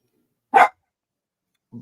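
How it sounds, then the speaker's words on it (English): A single sharp dog bark, close and fairly loud, followed by a brief low sound after a pause. "don't start that barking shit, bro"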